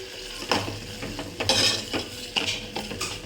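A spoon stirring garam masala and cumin powder into junka sambar in a pot, with soft scraping strokes and faint sizzling, several clinks close by, no talking.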